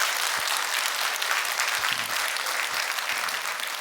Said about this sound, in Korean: 여러분 크게 박수 한번 해주셔요.